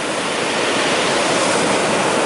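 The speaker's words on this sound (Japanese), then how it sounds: "波が来ます。" Ocean waves rushing onto the beach at the Nakatajima sand dunes in Hamamatsu: a loud, close, continuous roar of surf washing in without pause, no talk.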